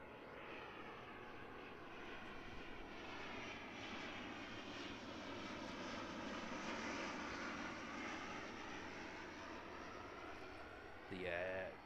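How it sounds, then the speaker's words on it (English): An ATR 72-600 turboprop airliner approaches Christchurch Airport with a sustained, humming propeller drone. The drone holds steady and moderately loud throughout, with a brief extra noise at the very end. "Beautiful approach there from the ATR 72-600."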